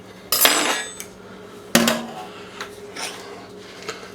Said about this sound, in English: I'm just going to use the garlic pressed like that